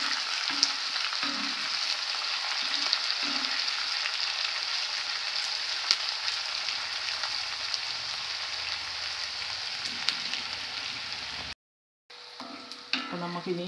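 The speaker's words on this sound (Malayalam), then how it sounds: "ഈ സവോളയും ഉള്ളിയും പച്ചമുളകും കൂടെ ഇതിൻ്റെ കൂടെ കിടന്ന് നല്ലപോലെ എണ്ണക്കകത്ത് വഴങ്ങ് വന്നിട്ട് വേണം" Onions, shallots and green chillies sizzle steadily in hot oil with coconut while beef is cooked Kerala style, a continuous bright frying hiss with occasional stirring clatter, broken by a brief cut near the end.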